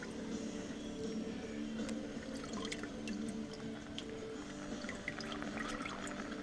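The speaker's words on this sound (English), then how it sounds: "We got water coming out from between. It's pretty warm." Warm water trickles and drips steadily out from between two parts, a soft continuous pour with scattered droplet splashes.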